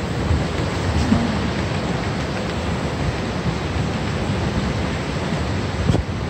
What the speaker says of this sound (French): Et puis il commence à pleuvoir.